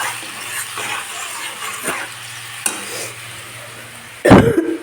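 Food sizzles in a hot pan with soft scraping as it is stirred, ending in a sudden loud clatter near the close.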